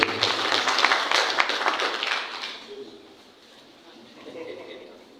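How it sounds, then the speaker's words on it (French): Audience applause at a general assembly of a women magistrates' association, a few seconds of dense clapping that fades out, after which a voice speaks quietly. "passer la parole au procureur John Falso sous vos applaudissements, s'il vous plaît."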